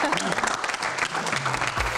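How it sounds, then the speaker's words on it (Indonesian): An audience at a Q&A talk event claps in a quick, lively burst of applause lasting a couple of seconds, with a voice briefly heard at the end. "Tepuk tangan untuk Fai."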